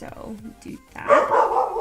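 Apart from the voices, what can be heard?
dog barking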